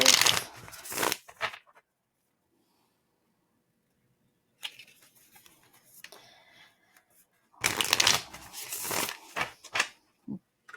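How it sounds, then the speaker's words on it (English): A deck of tarot cards is shuffled in two short bursts of crisp riffling, close and fairly loud, separated by a quiet pause with faint handling, followed by a brief soft tap. "Give it a couple shuffles."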